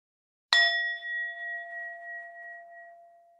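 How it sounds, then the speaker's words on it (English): A small handheld bell struck once, giving a bright single ding with clear ringing tones that hang and slowly decay over about three seconds in a quiet room. "So I'm just gonna ring a bell here."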